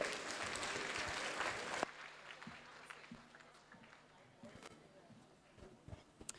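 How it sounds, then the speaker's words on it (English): An audience at a World Teachers' Day 2024 event breaks into loud, dense applause that stops abruptly after about two seconds, followed by scattered handling noises and light background chatter. "Can we give you another round of applause"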